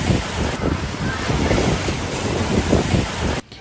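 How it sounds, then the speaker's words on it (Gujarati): Rough, swollen sea at the Dwarka coast during rainy weather, a dense continuous roar of surf and wind buffeting the microphone, loud and close, cutting off abruptly at the end. "વરસાદી માહોલ વચ્ચે દ્વારકામાં દરિયો ગાંડુતુર બન્યો।"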